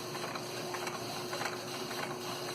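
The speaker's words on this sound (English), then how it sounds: "There we go. The pump's going." The pump of a Keurig 2.0 K300 coffee maker runs with a steady mechanical buzz and a rapid, even ratcheting rhythm, close and continuous with no voices.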